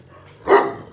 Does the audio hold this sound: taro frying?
no